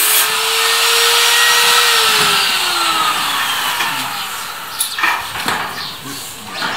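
A power drill bores pilot holes for rivets in the frame of a small self-built house. Its close, steady motor whine slowly drops in pitch, then gives way to clattering handling noises.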